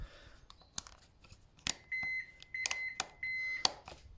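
A Peugeot Elystar scooter dashboard gives a series of sharp electronic beeps, some short and some held for about half a second, close by among light clicks and handling noises.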